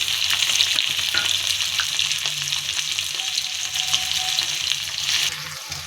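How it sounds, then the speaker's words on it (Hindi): Chopped onions sizzling in hot oil: a steady, close crackle and hiss with occasional stirring scrapes, continuous throughout with no talk. "तेल हमारा हो चुका है गर्म और उसमें डालेंगे प्याज। अब ये चटर चटर चटर चटर बोलेगा।"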